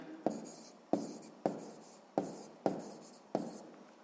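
Six evenly spaced pen strokes scratch onto paper while a math answer is written down for a sixth-grade exercise. They sound close, crisp and steady, with no voices.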